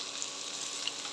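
Slices of green banana fry in hot oil in a pan, giving off a steady, even sizzling hiss at moderate volume with a few small pops.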